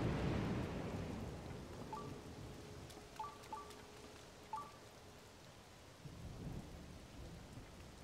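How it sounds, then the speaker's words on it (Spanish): Steady rain falls in Zelda: Tears of the Kingdom, with thunder rumbling at the start and a few short game chimes partway through; no talking. "Y es que no va a parar de llover"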